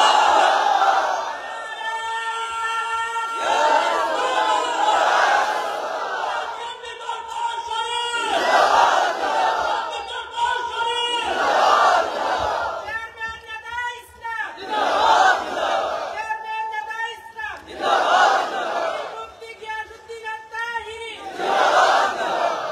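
A large crowd at an outdoor religious rally in Chandpur, Bangladesh, chants a slogan in loud unison, with bursts of shouting that come back in a regular call-and-response rhythm under a leader's voice.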